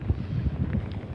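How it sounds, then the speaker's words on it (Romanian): Cold wind gusts buffet a microphone outdoors, producing uneven low thumping rumbles that come and go over the whole moment. "Bate vântul."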